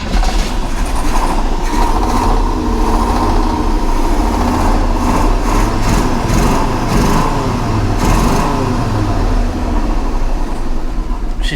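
A loud 1985 GMC Sierra 1500 truck engine runs roughly at idle, its rumble uneven and stumbling with repeated hard misses, no voices over it.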